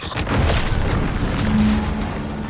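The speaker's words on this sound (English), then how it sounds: "What's that? An explosion?" An explosion in the video game The Outer Worlds 2 gives a loud, deep rumbling boom that rolls on steadily for a couple of seconds, with no talk.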